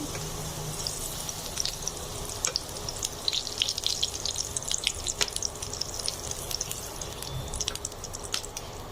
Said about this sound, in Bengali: আমার বিটরুটগুলো ভাজা হয়ে গেছে, এবার আমি তুলে নিচ্ছি।